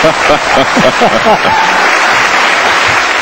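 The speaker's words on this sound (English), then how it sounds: "The local crowd ecstatic." A local crowd at the 2005 World Pool Championships breaks into loud, sustained applause and cheering for a pool championship win, steady throughout, with a voice speaking over the opening moments.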